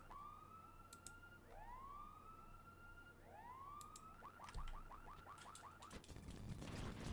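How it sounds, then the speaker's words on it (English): A repeated rising electronic whoop like a car alarm plays in the Pokemon Colosseum video game, several upward sweeps that speed into a rapid series of chirps over faint background noise, with no talking. "It's literally a car alarm."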